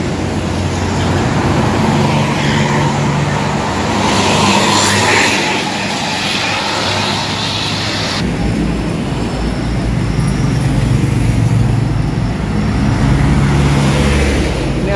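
Pandawa 87 tourist bus passing on the Pantura highway, a steady loud engine and tire roar that swells and fades amid continuous traffic noise, with no talking.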